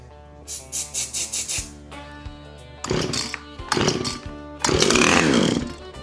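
A free Husqvarna chainsaw engine sputters in a string of short bursts, then catches and runs in rough, loud revving stretches with brief dips between them, close up.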